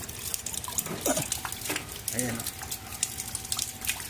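Water runs through a kitchen sink drain pipe that was just cleared of grease, a gurgling, splashing flow with drips, heard under someone speaking.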